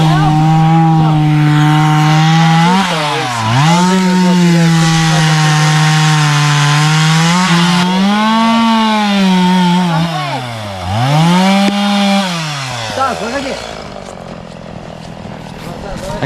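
A chainsaw cuts firewood outdoors on a pike fishing trip, close and loud, its engine pitch rising and sagging as it bites into the wood. Speech is faint or absent.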